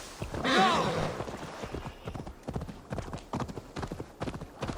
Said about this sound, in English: Let's call a horse over.